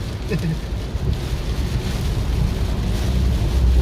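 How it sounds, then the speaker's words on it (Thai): Strong wind during a summer storm roars steadily and buffets the microphone, giving a constant rushing, rumbling noise for the whole stretch with no pauses. "วันนี้ลมแรงครับ"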